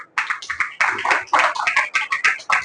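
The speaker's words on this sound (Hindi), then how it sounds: "खावंद और बीवी के लिए ताली बजाएंगे।" A short burst of clapping, a few hands beating quickly and irregularly, close and loud with no talking.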